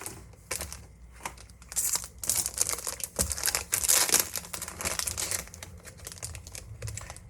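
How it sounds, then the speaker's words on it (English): Sheets of paper rustle and crinkle as they are handled and loaded into the tray of a Sawgrass 500 printer, in close, irregular bursts of crisp crackling with brief pauses. "When you're loading the paper into the tray part of the Sawgrass 500"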